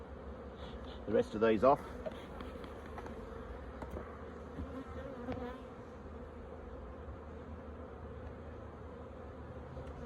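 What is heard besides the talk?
bees buzzing around a beehive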